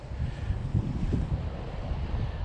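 Strong wind buffets close to the microphone, a constant low rumbling roar with gusty surges and no voices.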